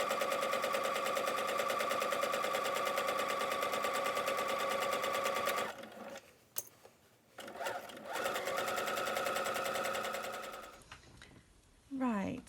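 A sewing machine back-stitches a seam down a fabric pencil case, its motor running in a fast steady drone for several seconds, then stopping and restarting in shorter bursts with handling noises between.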